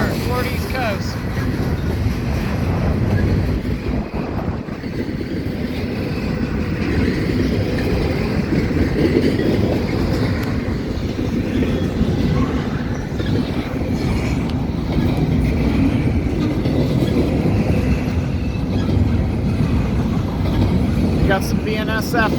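A Norfolk Southern westbound intermodal freight train with Dash 9 locomotives rolls steadily past at West Seven Mile, Ohio, a loud sustained rumble of wheels and cars with wind buffeting the microphone and someone talking over it.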